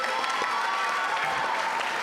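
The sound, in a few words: audience applause for quiz contestants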